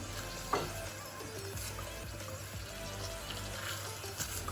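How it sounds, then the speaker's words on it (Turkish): Steady sizzling and frying crackle from onion, pepper and minced meat sautéing in a pan, close and continuous with occasional stirring scrapes. "Güzelce soğanımla beraber biberimi, kıymamı birkaç dakika kavuracağım."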